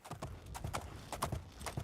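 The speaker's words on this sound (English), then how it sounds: "Let's jump on our horse. Let us run westerly along the river." Horse hooves galloping at a steady, repeating clip-clop rhythm in the modded, remastered video game Oblivion, close and moderately loud along a riverside ride, with no talk over it.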